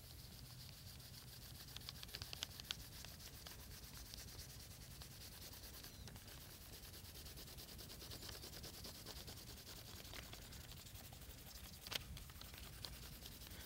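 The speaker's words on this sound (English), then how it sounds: "I'm going to use the side of a good sharp ebony pencil." Steady close rubbing of the side of a sharp ebony pencil over paper laid on a leaf, a continuous dry scratchy sanding texture that runs the whole time with a few small taps, and no voices.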